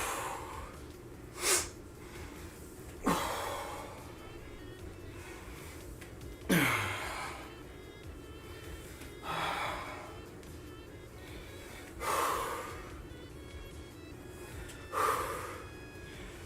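Heavy, controlled breathing during monkey squats with a kettlebell workout: about six loud exhalation bursts, some snort-like or gasping, spaced every two to three seconds over a low background.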